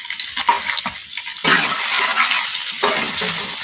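Green chili sizzling in a pan as turmeric is stirred in, with scraping spoon strokes and a steady frying hiss that swells louder midway and continues close up without speech.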